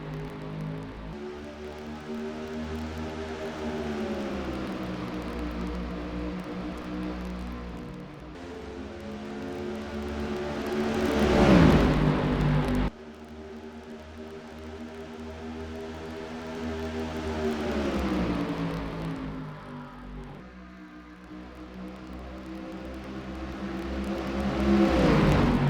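Race trucks roar around Darlington in a racing video game during a truck series event, a sustained engine drone that swells and dips as the pack moves, with no talk over it.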